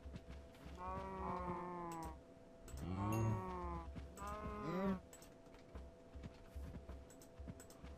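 Minecraft cows give two or three drawn-out moos in succession, moderately loud against quiet game ambience, with a short lowing call between them and nothing after.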